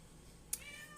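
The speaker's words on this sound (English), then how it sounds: "apologize about the cat freaking out" A single brief, sharp meow from an agitated cat cuts in partway through the quiet, followed by a faint trailing tone and another short cry at the end.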